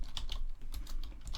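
Quick bursts of typing on a computer keyboard as a search phrase is entered, with close, crisp key clacks in short uneven runs and no talking.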